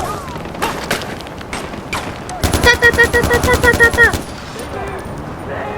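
Loud, close automatic gunfire rattles in a fast, even burst during a jet ski fight in Far Cry 4, with scattered single shots and booms before and after.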